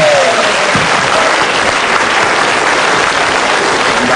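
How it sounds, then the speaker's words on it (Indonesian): Loud, dense audience applause rolls on steadily from start to finish at a Rajawali Mid Brain session, many hands clapping at once with no pauses. "Oke, tepuk tangan dong."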